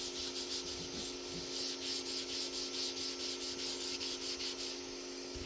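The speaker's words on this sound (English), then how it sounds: "So I'm cleaning it with rubbing alcohol." Rhythmic rubbing strokes as the bed of an Ender 3 V3 SE 3D printer is wiped with rubbing alcohol, a steady back-and-forth scrub over a constant mechanical hum.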